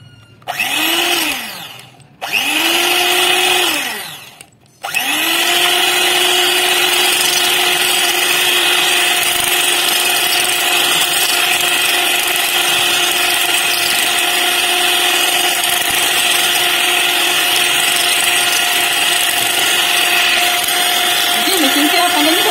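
An electric hand mixer runs on its low setting, beating a chutney sauce of vinegar, chilli garlic sauce, tomato ketchup and mayonnaise; a steady loud whine that starts and stops twice briefly before running continuously.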